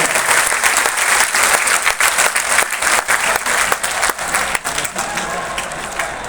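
A seminar audience bursts into loud, sustained applause to welcome a guest, dense clapping filling the hall for the whole stretch.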